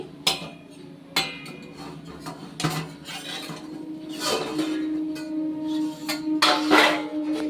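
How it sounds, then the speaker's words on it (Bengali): A plate resting as a lid is lifted off a pot of rice and vegetables cooking in water, giving a few sharp clinks and clatters up close, followed by a sustained bubbling hiss from the open pot. "একটা থালা দিয়ে ঢাকা দিয়ে দিচ্ছি। এবার ঢাকাটা খুলছি।"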